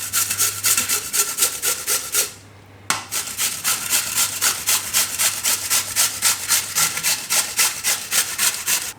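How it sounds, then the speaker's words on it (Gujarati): Peeled potatoes grated by hand on a kitchen grater, a steady rhythmic rasping of close, loud strokes with a brief pause near the middle, with no talking. "તો આમાં આપણે આ રીતે એને છીણી લેવું."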